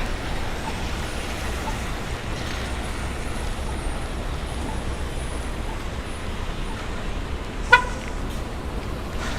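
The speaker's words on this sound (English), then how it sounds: "Not sure why the bus is beeping." A city bus sounds a short horn beep amid steady street traffic on a Brooklyn to Manhattan walking commute in New York City; the single brief toot stands out over the continuous roar of passing vehicles.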